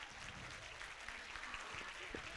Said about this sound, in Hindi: बच्चों के लिए जोरदार तालियां बजा दीजिए